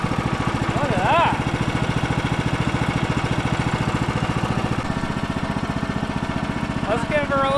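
A small sawmill engine idles with a steady, fast chugging pulse that runs throughout, close and fairly loud, with a couple of brief whistling or squealing tones over it.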